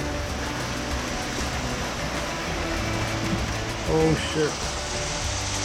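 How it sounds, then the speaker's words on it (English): Hail starts pelting a car, a dense steady patter drumming on the windscreen and body, with a brief exclaimed voice partway through. "So guys, it actually starts to hail."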